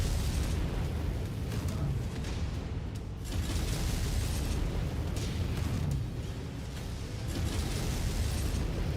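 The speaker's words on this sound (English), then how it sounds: "Did you see those missiles just like make that super sharp turn into that mech?" Missiles slamming into mechs in the video game MechWarrior 5, a dense, continuous barrage of loud explosive bursts and rumbling booms with no pause across the whole stretch.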